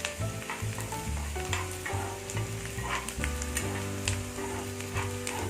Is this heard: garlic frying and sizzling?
yes